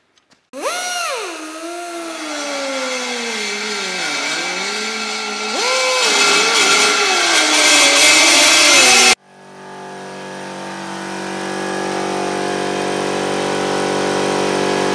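A power drill bores out M8 holes to M10 in a steel winch plate on a car trailer. The motor whines loudly up close and changes pitch as it bites, then stops abruptly, leaving a steady mechanical hum.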